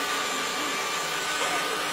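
A new kitchen blender runs with a steady, loud whirring roar that fills the whole clip, with voices faintly in the background.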